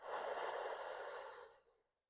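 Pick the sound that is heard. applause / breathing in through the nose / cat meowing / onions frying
breathing in through the nose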